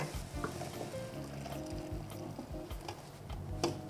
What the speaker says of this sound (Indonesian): Ini kita aduk juga.